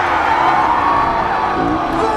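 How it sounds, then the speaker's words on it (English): A large concert crowd screams and cheers at full volume for a music-video shoot, a dense, continuous roar of many voices with scattered whoops, close and loud throughout. "Give us a scream, motherfuckers!"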